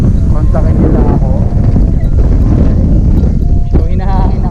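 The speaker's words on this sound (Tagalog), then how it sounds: "sobrang lakas ng hangin" Strong wind buffets the microphone outdoors near Alabang office buildings, a loud, steady roaring rumble with gusty swells, while voices talk underneath.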